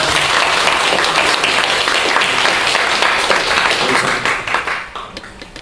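A church congregation gives sustained, dense applause for the children, loud and close throughout and thinning slightly toward the end.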